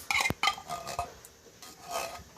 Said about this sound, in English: I'm just going to take a spoon and get all my soup out